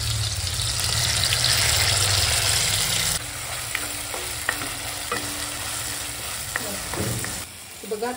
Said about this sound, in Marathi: तेल तापलं ना, आम्ही मसाला त्याच्यामध्ये छान परतून घेणार